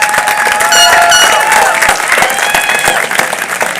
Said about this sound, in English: Yes, that's something to be applauded.